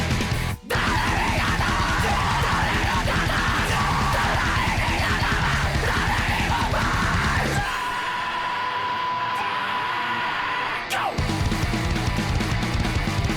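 A metal song plays loud and dense, with screamed vocals and heavy syncopated riffing, then drops to a thinner sustained section before the full band crashes back in.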